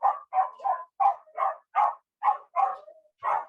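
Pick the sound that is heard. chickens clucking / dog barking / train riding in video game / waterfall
dog barking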